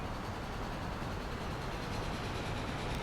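Passenger train arriving in the video game Transport Fever 2: a steady, even rumble of rolling rail noise holds at a constant level throughout, with no voices over it.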